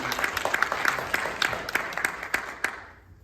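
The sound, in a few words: audience applause at a film festival Q&A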